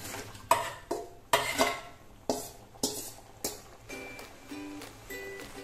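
A spoon stirs chicken with masala in a kadhai, giving a series of scraping clanks against the metal, roughly one every half second. The clanks are close and moderately loud, and a faint sizzle sits underneath.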